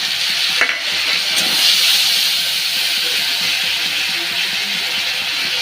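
Ginger garlic paste and tomato frying in hot oil while being stirred, a loud, steady sizzle and hiss close by, with occasional scrapes of the spoon and no talking.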